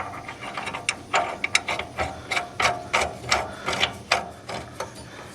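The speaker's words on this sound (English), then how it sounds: "I'm going to tighten that down because it will get tight." A ratchet tightens a nut on the pulley of a John Deere X570 riding mower. About a dozen sharp, close mechanical clicks come in quick uneven strokes.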